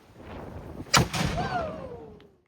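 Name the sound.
historic cannon firing at St. Augustine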